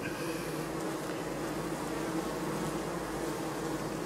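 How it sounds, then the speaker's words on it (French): Honey bees fanning their wings to ventilate a hive on a hot day, a steady, dense buzzing hum that carries on without pause, fairly faint and heard alone. "On a entendu le bruissement des ventileuses. Elles battent les ailes en fait pour ventiler l'intérieur de la ruche"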